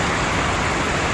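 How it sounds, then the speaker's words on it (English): Cascada La Nutria, a large roadside waterfall in Patagonia, Chile, roars as a dense, steady wash of falling water, loud and unbroken throughout the short stretch. "Cascada is waterfall in Spanish."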